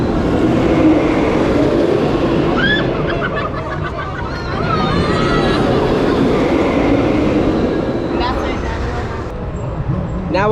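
Ice Breaker roller coaster train rolling along its track toward the brake run, a steady rumbling clatter that stays loud throughout with faint higher squeals, heard alongside background crowd noise and voices.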